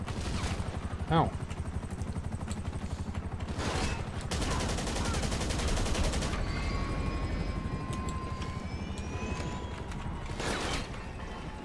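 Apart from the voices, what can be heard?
heavy rifle gunfire in the video game GTA 5 Online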